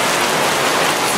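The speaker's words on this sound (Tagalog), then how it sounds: "Goodness, it's raining hard." Heavy rain pours steadily onto surfaces around a wet motorcycle, a dense, continuous hiss of drops with no pauses, loud and close.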